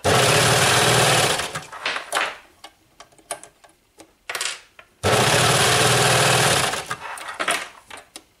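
A coverstitch sewing machine hems the edge of a raglan shirt in two loud, fast bursts of stitching, each followed by slower clicks and taps of the machine settling, close up with no voices.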